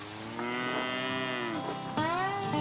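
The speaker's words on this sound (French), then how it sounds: "Des vaches originaires des marais et des moutons vendéens." Cattle mooing on a livestock farm in the Vendée marshes, where cows and Vendée sheep are raised; one long, loud, close bellow runs for about a second and a half, then a second call starts right after it.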